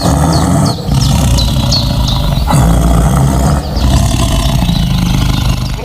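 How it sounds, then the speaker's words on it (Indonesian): A white tiger roars in deep, rumbling, sustained growls that fill the clip up close, with faint high chirps in the background. "Wadidaw, seekor harimau."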